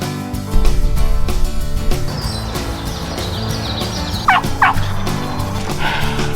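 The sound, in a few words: wild turkeys gobbling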